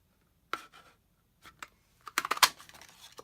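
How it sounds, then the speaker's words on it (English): A 2 1/4 inch circle punch cuts a paper circle, heard as a few close, sharp clicks and crunches, with a brief burst of rapid snapping near the end. "All right, so I'm going to take this and I'm going to cut the circle out."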